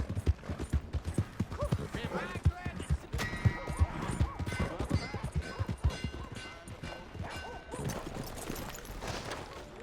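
A horse's hooves clatter in a fast gallop in the Red Dead Redemption 2 video game, with a whinny partway through and game voices talking over the hoofbeats.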